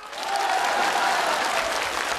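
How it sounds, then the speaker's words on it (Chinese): A studio audience at a televised comedy sketch breaks into applause, a dense, even clapping from many hands that swells quickly and holds steady without any voices. "同意老王头对店的请鼓掌"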